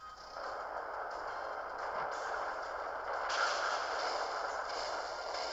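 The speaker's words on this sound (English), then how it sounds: "And Earthquake, super effective!" An Earthquake attack in the Pokémon Sun and Moon game, a faint, sustained rumbling crash with static-like noise, rising at intervals, with no voices.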